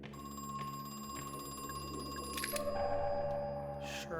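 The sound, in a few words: telephone ringing in the video game Crow Country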